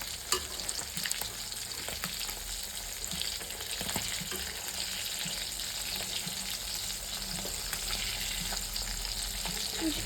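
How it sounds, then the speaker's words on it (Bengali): Pieces of fish are turned one by one in hot oil in a kadai, with a steady close sizzle broken by light scraping clicks of a spatula. "মাছগুলো আমি এক এক করে উল্টে নেবো"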